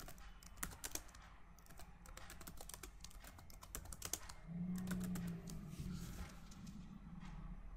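Steady keystrokes clatter on a computer keyboard while text is entered into a PowerPoint brochure layout, a continuous close run of light clicks with a few sharper taps, no voice over it.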